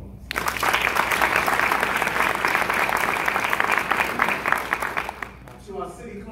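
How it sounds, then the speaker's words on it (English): A large audience at a civic ceremony honouring congresspersons breaks into loud, dense applause that starts abruptly, holds steady and tapers off at the end, with a few voices mixed into the clapping. "please give them a round of applause"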